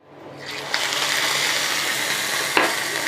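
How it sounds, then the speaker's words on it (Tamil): Soaked sago pearls simmering in a pot of boiled green gram dal, a steady close bubbling hiss with soft stirring scrapes and a sharp clink near the end. "நம்ம ஊற வச்சுருக்கிற இந்த ஜவ்வரிசியை இதில் சேர்த்து கொஞ்சம் வேக விடணும்."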